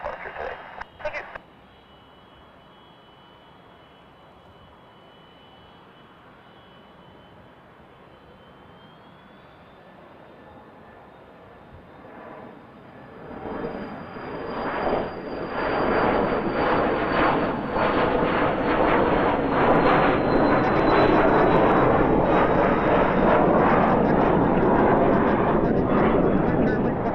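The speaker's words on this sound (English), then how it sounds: "And the Jazz Dash 8 is taxiing." A Jazz Dash 8 turboprop taxiing at Kelowna airport, its engine hum growing from faint to a loud steady drone that holds through the end.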